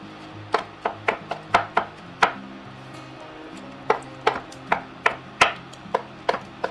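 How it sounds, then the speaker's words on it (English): A knife finely chopping mushrooms on a cutting board, sharp irregular knocks in quick bursts of several strikes with short pauses between, close and clear with no talking. "I'm gonna go ahead and just start chopping these, and you wanna do a fine chop on these mushrooms."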